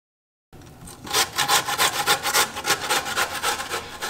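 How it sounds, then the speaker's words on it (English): Raw potatoes are peeled by hand. After a brief silence, a run of quick, rhythmic scraping strokes follows, close and fairly loud, with no talking. "We peel the potatoes first."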